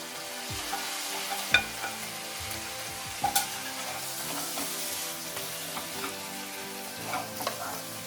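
Fried okra and onion go into a curd mixture for bhindi do pyaza, with steady frying sizzle and stirring throughout and a few spoon clinks against the pan, close and moderately loud, no speech.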